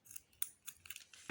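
Quiet, close scissors snip off the cord ends of a macramé braid bracelet, several short crisp cuts in quick succession with no voices.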